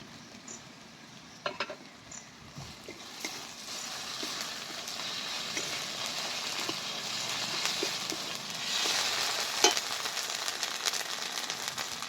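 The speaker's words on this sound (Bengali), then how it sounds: "পেঁয়াজ রসুন ভালোভাবে ভাজা হয়ে গেছে" Onion, garlic and ginger sizzle steadily in a hot pan for a village-style dhaba egg curry, with occasional stirring scrapes and pops over a constant frying hiss.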